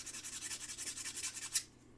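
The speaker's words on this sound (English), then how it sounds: "I'm going to go ahead and just sand it." Sandpaper rubbed over sharp edges in quick, even back-and-forth strokes, a soft rhythmic rasping close by with no talking.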